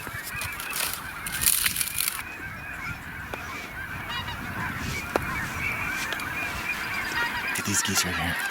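Snow geese honk continuously in flight, a dense overlapping chorus of many birds at moderate distance, steady throughout with brief louder swells.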